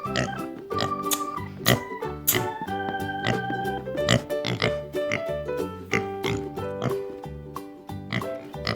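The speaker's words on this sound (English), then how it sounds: "These are my cute pig couple." Toy pigs oink from a Fisher-Price barn farm toy, several cheerful oinks mixed into a bright, busy electronic toy melody that plays steadily throughout.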